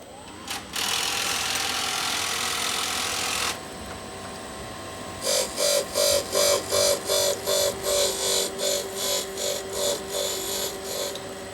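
A valve lapping machine grinds a Mercedes-Benz Actros truck valve, beginning with a steady whirring run and then switching to a rhythmic series of about a dozen evenly pulsed grinding strokes.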